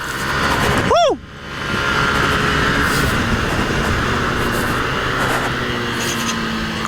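A Yamaha Aerox scooter fitted with a turbo, revving in one sharp, rising and falling burst close by, then a steady engine drone while riding at Sentul.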